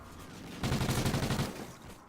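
A rapid burst of automatic gunfire rings out in Call of Duty Ghosts, close, loud and rhythmic for under a second after a quieter lead-in, then fading away.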